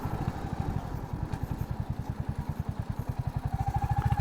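A Royal Enfield Hunter 350 motorcycle making a U-turn, its single-cylinder engine thumping in a steady rapid pulse at low revs, close and clear with no voices.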